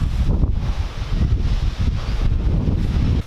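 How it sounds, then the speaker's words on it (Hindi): Heavy wind roars and buffets the microphone in continuous low rumbling gusts, with leaves rustling throughout; no voices. "बट आंधी चल रही है भयंकर तरीके से।"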